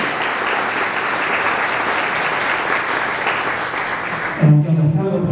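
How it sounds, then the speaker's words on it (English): An audience claps in steady, dense applause at a public commemoration of a tornado's centenary, sustained for several seconds before tapering off abruptly at the end. "I would appreciate it if you give them a quick round of applause."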